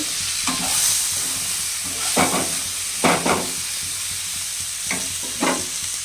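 Vegetables fry with turmeric and salt in a pan, giving a constant close hiss of sizzling. Several sharp scraping stirs break through at irregular intervals. No voices.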